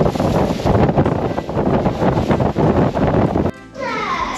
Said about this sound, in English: You could see the gust coming across the sea.